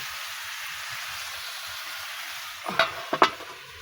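Pumpkin with its skin on, seasoned with turmeric and salt, sizzles steadily in a pan, then a few louder scraping stirs of the spatula break through near the end.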